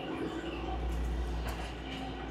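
Kalka–Shimla toy train at Shimla railway station, a steady low rumble of the train with a constant background drone and faint clatter, no clear speech.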